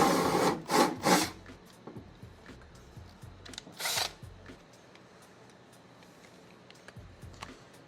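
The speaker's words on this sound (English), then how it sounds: "Maybe I need to drill that a little bigger." A few short, loud bursts of a power drill whir at the start and once more mid-clip, followed by quieter handling and scraping noises.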